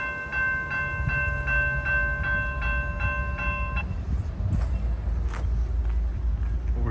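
A CSX freight train rolls by on the tracks beside old abandoned mills, its horn sounding a sustained chord before giving way to loud rumbling and clanking wagons passing close.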